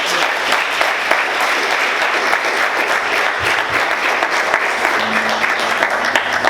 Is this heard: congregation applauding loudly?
yes